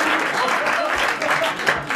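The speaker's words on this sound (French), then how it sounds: "Nous allons applaudir Monsieur Monsieur Misset d'Antibes" A television studio audience claps steadily, a dense patter of applause that holds for a couple of seconds.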